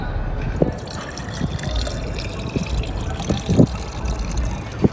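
Water pours and drips into a container, with scattered splashy drops and a soft trickle over a low background hiss, fairly close and with no talking.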